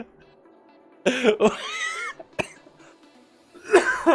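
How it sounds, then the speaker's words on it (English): A few sharp coughs, close and loud, separated by quieter moments with some throat noise, during a World of Warcraft: Battle for Azeroth livestream. "Sorry. I had to cough."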